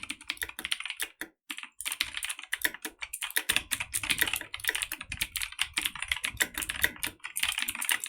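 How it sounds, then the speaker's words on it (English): Rapid, continuous clacking of a mechanical computer keyboard being typed on up close, a dense irregular patter of key strikes with only a couple of brief pauses, no voices over it. "Because I have a mechanical keyboard, and so, well, it sounds like this."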